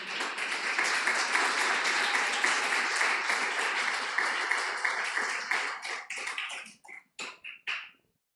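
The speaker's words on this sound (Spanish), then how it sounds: "Denle un aplauso al Señor, aleluya." A church congregation applauds for the Lord, a sustained dense burst of clapping that thins out near the end into a few scattered, separate claps before stopping.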